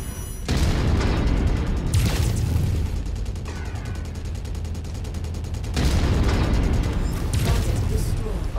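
Autocannon fire from a Centurion mech in Mechwarrior 5: Mercenaries comes as loud booming bursts and rapid volleys, with heavy rumbling impacts and a voice talking among the blasts.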